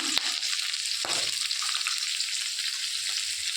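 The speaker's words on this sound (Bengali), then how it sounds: "এইবার আমি কুচি করে রাখা পেঁয়াজ কাঁচা লঙ্কা রসুন সবটাই দিয়ে দিয়েছি" Chopped onion, green chilli and garlic fry in oil with dried red chilli and nigella seeds, a loud, even crackling sizzle up close, with a couple of sharp spoon taps near the start.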